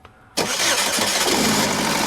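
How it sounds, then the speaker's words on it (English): A 2011 Chevrolet Equinox with a new engine, cranked manually through a test relay: after a quiet moment the engine catches abruptly and runs loud and steady up close, with no talk. "Let's see if we can manually crank this thing."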